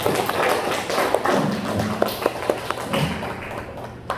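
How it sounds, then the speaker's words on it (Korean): A church congregation at a wedding service claps for the bride and groom, loose and uneven, with distinct sharp claps standing out over a low murmur of room noise. "박수를 쳐야만 나옵니다."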